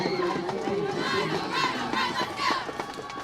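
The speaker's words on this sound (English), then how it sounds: "Hear the sound of the New Waverly cheerleaders just in front of us tonight" New Waverly cheerleaders cheer at a high school football game against Trinity. Their chanting voices rise from a busy stadium crowd while a commentator talks over them.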